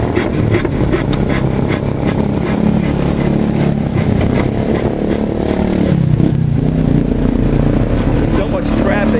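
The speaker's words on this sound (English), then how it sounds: "So much traffic, I'm not even gonna." Busy street traffic in Bulacan, Philippines, with motorcycles and cars passing close by in a loud, continuous mix of engine rumble, revving and clatter throughout.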